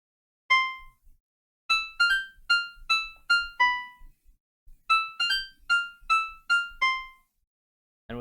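Plucky synthesized piano pattern played back in TunePad: short bright notes in two quick rhythmic phrases separated by a pause, clean and moderately loud with no voices.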